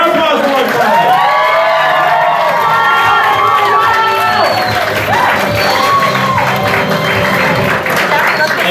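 A convention audience at Anime Boston 2024 cheers and claps for the winning team at an anime quiz game show, a dense, loud wash of whoops and shouts with steady applause underneath throughout.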